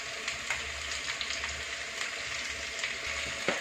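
Shredded cabbage fries in a hot pan for veg hakka noodles, a steady faint sizzle and crackle with occasional sharper pops and a low background hum throughout.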